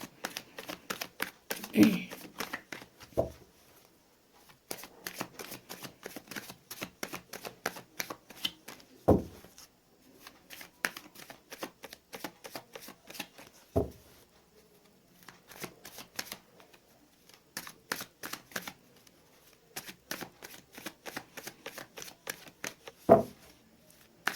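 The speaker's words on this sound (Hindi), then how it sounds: "चलिए गाइस, मैंने कर ली है कार्ड्स की सफलिंग।" Tarot cards are shuffled up close in quick rapid riffles and flicks, broken into repeated bursts separated by short pauses and occasional soft thumps as the deck is squared, with no talking.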